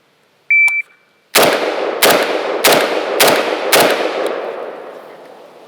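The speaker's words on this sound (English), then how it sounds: "I'm gonna shoot the circle to the right on the top" A shot timer gives a short electronic beep, then an IWI Galil Ace 5.45x39 rifle fires five loud, evenly spaced shots over about three seconds, each with a long reverberant tail outdoors.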